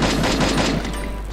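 Rapid, continuous gunfire rattles in a shooting video game, a dense stream of loud, closely spaced shots with no pause across the brief moment.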